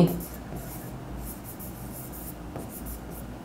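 A pen writing accounting entries by hand on paper, with a soft continuous scratching close by and a faint low background hum.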